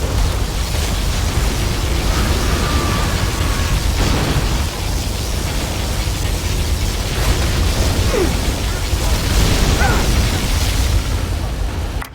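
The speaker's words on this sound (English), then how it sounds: "Particle cannon activated." In C&C Generals Zero Hour, a particle cannon fires a sustained roaring blast of loud, noisy energy that holds for many seconds, with faint sweeping tones inside it.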